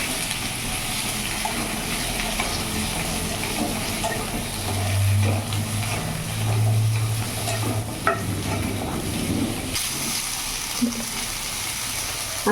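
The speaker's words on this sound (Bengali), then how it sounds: "সামান্য হলুদ দিয়ে এটা প্রথমে আমি একটু ভেজে নেব।" Moong dal with turmeric fries and sizzles in a pan while being stirred, a steady close hiss with scraping stir strokes throughout.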